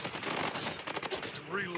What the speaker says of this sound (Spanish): Ahora se la tengo de disparar sin apuntar.